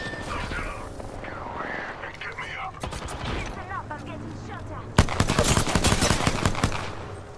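Gunfire aimed at the player in an online shooter game, with rapid automatic bursts and scattered shots that grow sharply louder and denser about five seconds in, while people talk over it.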